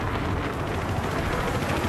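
A helicopter in Battlefield 3 drones steadily and loudly close by, a continuous rumbling rotor roar with no pauses.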